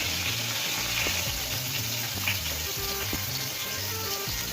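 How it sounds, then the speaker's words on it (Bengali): Green chillies and tomato frying for ghugni, a steady loud sizzle of oil in the pan with faint scraping and stirring clatter beneath, no voices. "কাঁচা লঙ্কা, টমেটোটা দিয়ে ভেজে নেবো"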